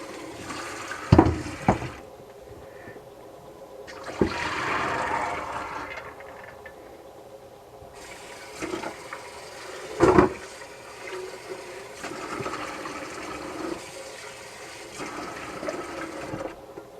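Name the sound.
water rinsing corn in a colander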